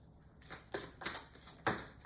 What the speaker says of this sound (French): je vais piger 3 cartes dans les chemins de l'éveil